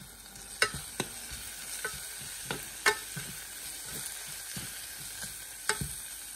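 A spoon scrapes and taps through chicken curry masala of onion, ginger-garlic paste, turmeric, chili and coriander powder in a sizzling pan, giving irregular sharp clacks over a low, steady fry hiss.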